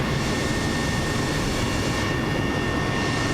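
A helicopter engine spooling up at a small airfield, a steady loud broadband roar with a faint high whine running throughout, close by and with no talk over it.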